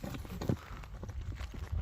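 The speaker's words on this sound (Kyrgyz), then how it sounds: "Мына атты көрүп турасыздар." Horse hooves clip-clop in a quick, uneven run of close thuds over a short stretch, with faint background noise and no clear talk.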